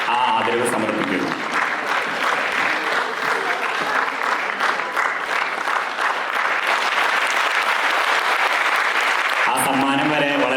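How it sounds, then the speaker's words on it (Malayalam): An audience at an Onam celebration gives a full round of applause during an inaugural ceremony. Dense, sustained clapping fills the hall for about ten seconds, with a voice speaking briefly at the start and the end. "നിറഞ്ഞ കയ്യടികളോടെ ആ ആദരവ് സമർപ്പിക്കുന്നു."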